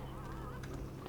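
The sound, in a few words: chickens clucking at the chicken coop in the video game Dungeon Keeper 2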